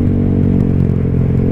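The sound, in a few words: motorcycle engine with open aftermarket exhaust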